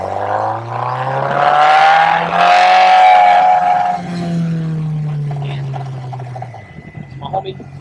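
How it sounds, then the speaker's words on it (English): A Kawasaki ZX10R sport motorcycle revs up and holds a high whine for practice wheelies, the engine pitch rising, sustaining, then falling away over several seconds, loud and close, with scattered rattles at the end. "My homie, we're gonna do some practice wheelies"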